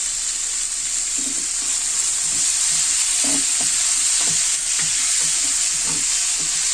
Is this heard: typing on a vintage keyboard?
no